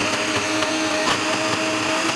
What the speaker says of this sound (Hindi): ब्लेंडर में डालने के बाद हम इन सारी चीज़ों को ब्लेंड कर लेंगे।